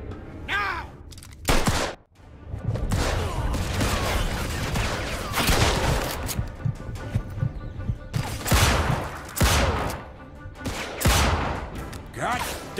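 Dense gunfire fills a Mafia 2 shootout, with rapid repeated shots and bursts coming close and loud, joined at times by shouted voices.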